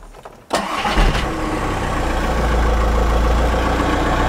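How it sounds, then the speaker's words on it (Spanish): A car engine cranks and catches after a short quiet moment, then settles into a steady, loud idle that holds to the end, close by with no talking. "aquí nos dice encender el coche"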